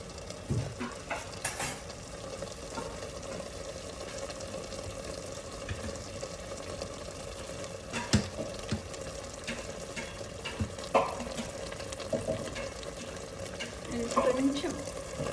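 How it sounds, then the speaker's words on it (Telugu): A cup of water goes into chicken curry frying in a pan, giving a soft sizzle and bubbling with intermittent scrapes and clinks of stirring, fairly quiet and close. "ఇప్పుడు కొద్దిగా 1 కప్ వాటర్ వేస్తున్నాను."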